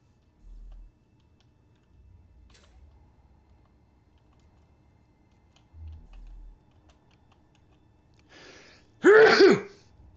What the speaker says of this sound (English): Sneezed in the helmet, everyone.